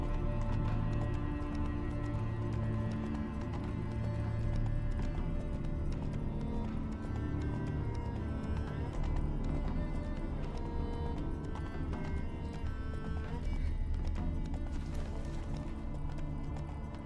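A horse gallops in The Witcher 3 with a steady, rapid clip-clop of hooves, joined by a music score and ambient game sounds for the whole stretch.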